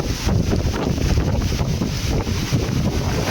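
Strong typhoon wind battering the microphone in Anda, Pangasinan, a loud, continuous roaring rush with gusting buffets that never let up.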